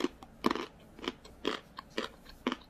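Someone chews roasted chestnuts, comparing ordinary chestnuts with premium Okgwang chestnuts; close, crisp bites and mashing repeat in a steady rhythm about every half second, with no talk.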